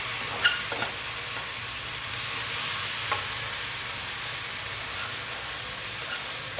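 Sticky rice goes into a pot of chicken arroz caldo with a soft thump, then sizzles and hisses while being stirred, close by with a steady background hiss.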